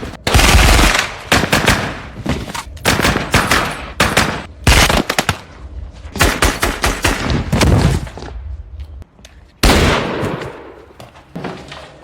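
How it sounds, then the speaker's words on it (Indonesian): Loud bursts of rapid automatic gunfire with dense, overlapping shots, broken by short pauses, sounding close and intense like a battle scene. "di tengah pertempuran, leher Miller harus terserempet tembakan yang berasal dari Ryan."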